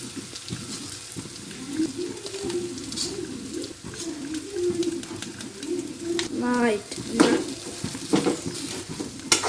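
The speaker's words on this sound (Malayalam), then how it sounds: "നെയ്യ് നന്നായി ചൂടായതിന് ശേഷം നമുക്ക് ഇതിലേക്ക് ഗോതമ്പ് നുറുക്ക് ഇട്ട് കൊടുക്കാം" Broken wheat is being roasted in hot ghee in a pan, with a soft sizzle and stirring scrapes under a continuous voice, and chirpy bird calls in the background.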